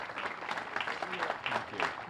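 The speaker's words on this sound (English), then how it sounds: "So please give a nice round of applause for Commissioner Leo Roy." A crowd at an outdoor bandstand dedication applauds, a brief dense patter of many hands with a few sharper claps standing out.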